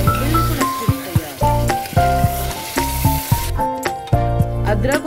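Ginger and green chili frying in a pan of mutton stew: a loud, steady sizzle close up, with repeated scraping and clinking from stirring and a faint voice in the background.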